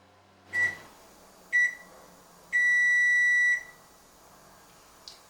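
A microwave oven heating burritos signals it is done with a series of electronic beeps, two short ones followed by a long sustained tone and a faint final blip, alone in a quiet kitchen.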